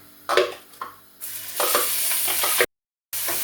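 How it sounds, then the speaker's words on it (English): Onions hit a pan of sizzling cumin seeds for a jackfruit masala, bursting into loud, close frying with stirring scrapes, then cutting out briefly before the steady sizzle returns. "Now I'm going to put the onions in."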